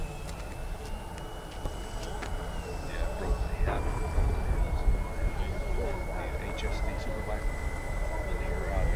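An E-Flite SU-30 model jet with twin 70mm electric ducted fans flies overhead at a distance, a thin steady whine over broad outdoor rumble, fairly quiet and continuous, with voices talking nearby.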